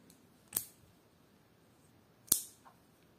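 Two crisp snips from the small scissors of a Leatherman Style PS multitool, about two seconds apart, each a sharp close metallic click with a short ringing tail in an otherwise quiet room.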